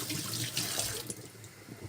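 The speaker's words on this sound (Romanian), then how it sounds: "Hai să-mi spăl lingura" Running tap water splashes steadily into a kitchen sink as a spoon is rinsed while raspberry jam is being made at home, a close, continuous rush with small clinks and sputters and no talk.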